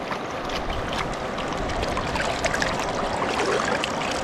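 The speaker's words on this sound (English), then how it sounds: "I'm just washing the lighter muds away" Water sloshing and washing light mud out of a gold pan while panning gravel from cracked bedrock, a steady close broadband wash with continuous swirling and trickling and no voice.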